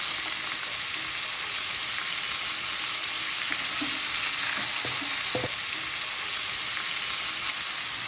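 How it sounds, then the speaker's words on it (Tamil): Three crabs frying together in a pan of hot oil, giving a steady, dense sizzle throughout with faint stirring scrapes, close and continuous, with no voices. "இப்போ வந்து 3 நண்டையும் போட்டாச்சு. வடிவாக பொரியட்டும்."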